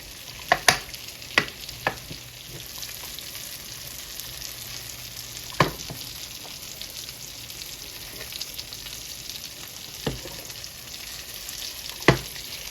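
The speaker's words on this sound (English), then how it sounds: "we're just getting that garlic sauteed in there" Garlic sautés in butter in a pan, a steady low sizzle running throughout, broken by a few sharp clicks of a utensil against the pan, with no talking.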